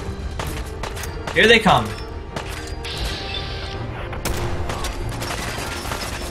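Enemy gunfire in Fallout 4 during combat, sharp scattered shots and impacts with a louder crash near the middle, while someone talks over the action.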